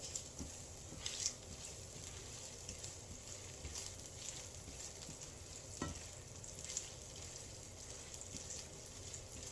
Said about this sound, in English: Add your chopped onions.